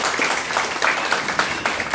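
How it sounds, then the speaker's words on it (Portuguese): A congregation at a church prayer-group meeting gives a round of applause: dense, steady clapping from many hands that fills the room for a couple of seconds with no talk. "É uma salva de palmas"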